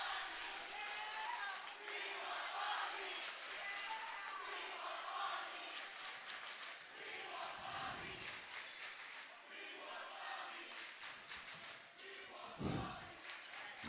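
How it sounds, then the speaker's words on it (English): A high school boys varsity basketball crowd chants from the stands at an Eau Gallie Commodores game at Satellite, a dense, steady roar that stays loud for the whole stretch, with a few heavier thumps mixed in. "Crowd chanting. They want a certain player to come in."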